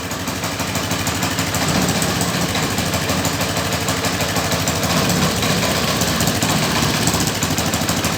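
A Chinese scooter engine idling just after a cold start, a loud, close, steady buzzing putter running without a break throughout, with no voices.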